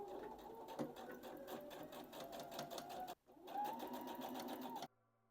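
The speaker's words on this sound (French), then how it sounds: "maintenant je passe en machine pour l'assembler" Sewing machine stitching together a jacket's facing, a fast steady needle rhythm running loud and close, cutting out briefly near the middle before resuming, then stopping abruptly.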